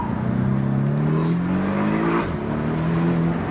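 A Porsche with a PDK automated dual-clutch transmission accelerates hard, engine pitch climbing smoothly, dipping briefly at a quick shift and rising again, loud and close.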